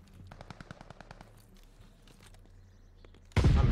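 Rapid bursts of automatic gunfire in a competitive first-person shooter match ring out in quick rhythmic volleys, then a loud close blast or explosion erupts at the end.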